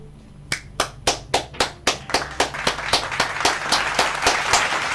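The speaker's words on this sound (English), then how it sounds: "stop and clap it up" Hand clapping on a sports radio show, a single person's sharp, evenly spaced claps, about fifteen in a steady rhythm, close and loud, gradually quickening and blurring into a continuous patter toward the end.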